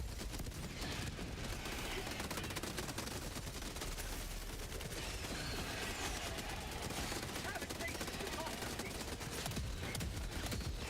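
Automatic sentry turrets in the Helldivers video game, including Gatling and autocannon sentries, keep up dense rapid gunfire over a constant loud wall of battle noise with explosions and no break.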